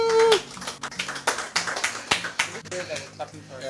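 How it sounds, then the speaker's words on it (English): Studio audience claps and cheers to welcome the cast of the TV series E.V.E, a run of close, irregular claps and whoops with voices mixed in. "Please let's give them a round of applause."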